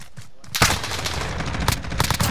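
Video game gunfire crackles in a quick burst of sharp shots after a short quiet start, with a few more cracks following close together.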